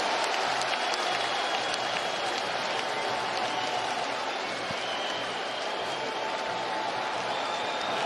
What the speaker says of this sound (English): What a fight, Kamaru Usman and Leon Edwards go the full 25 in front of an appreciative London crowd